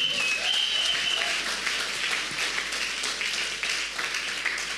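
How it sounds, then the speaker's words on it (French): A church congregation applauds steadily, a dense, moderately distant wash of many hands clapping together for several seconds with a faint tonal sound briefly above it. "Acclamons pour le roi des rois."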